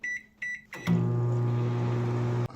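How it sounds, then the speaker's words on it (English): A microwave oven heating a bowl of bibigo chicken wonton soup: a few short keypad beeps, then a steady loud hum from the running oven that stops abruptly near the end, with no talking. "In the oven it goes. Microwave, I mean."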